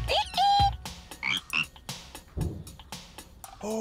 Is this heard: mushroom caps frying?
no